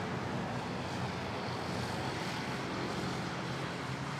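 A Saudi airliner pushing back at Manila Airport gives a broad, steady roar of jet engine and ground noise, even and continuous at moderate distance, with no talking.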